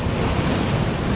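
Waves break and wash over rocks at Uvongo Beach on a Sunday morning, a steady, loud roar of surf with wind buffeting the microphone and no voices.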